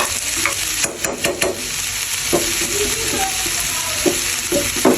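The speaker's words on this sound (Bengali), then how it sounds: "চুলার আঁচটা একদম হাই ফ্লেমে থাকবে এখন আমি দিয়ে দিব রসুনটা" Garlic frying in a pan over a high flame for egg and vegetable noodles, a loud, close, continuous sizzle broken by scraping stirs and small knocks, with no one talking.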